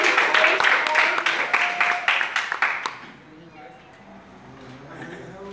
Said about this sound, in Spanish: Aplausos para los hermanos.